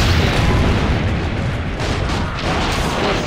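Cannon fire in the video game Assassin's Creed Brotherhood, a dense run of heavy booms and bursts that carries steadily at loud, close range with no break.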